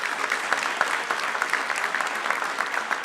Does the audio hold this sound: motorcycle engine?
no